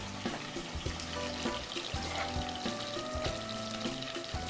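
Onions and peppers cook in a pan with a soft constant sizzle, punctuated by periodic knocks and scrapes of a utensil, close and moderately quiet, no speech.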